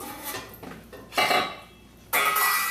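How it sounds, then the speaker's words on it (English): A big metal stock pot being picked up and set down in a kitchen, with a few clanking knocks followed by two louder clunks as it lands, close and clear with no talking. "So we are now going to take a big stock pot."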